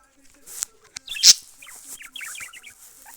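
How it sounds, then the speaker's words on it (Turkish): A pet bird sings indoors close by, a run of quick chirps and twittering notes between a few sharp clicks and thumps, with no talking. "Aa kuşum ötüyormuş."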